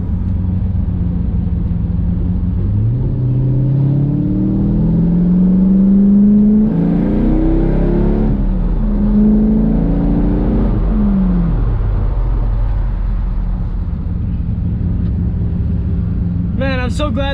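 A BMW E46, just back on the road after a rear axle swap, idles and revs repeatedly, the engine note climbing and falling in several loud surges over a steady rumble, with talking over parts of it.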